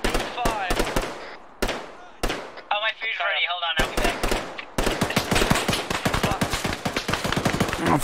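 Firing squad gunfire in Arma 3, loud close bursts of rapid rifle shots in clusters with brief gaps, someone talking between volleys and over the shooting.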